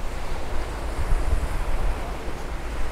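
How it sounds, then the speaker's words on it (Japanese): Sea waves and strong wind heard from aboard a boat off the Philippines, a steady roar of surf and gusting wind noise buffeting the microphone throughout. "波が今日は風が強いんか。"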